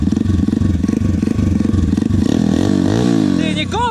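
A motorcycle engine, just started after an oil top-up on an MRF bike, runs loud and steady with a rapid pulsing idle, then revs up toward the end.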